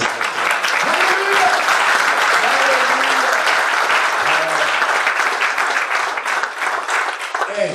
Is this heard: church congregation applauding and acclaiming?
yes